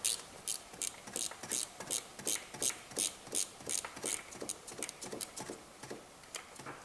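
A spanner ratchets on a BMW 3 or 5 series starter motor bolt, producing a quick series of sharp metallic clicks in irregular bursts, close and fairly faint, with no speech.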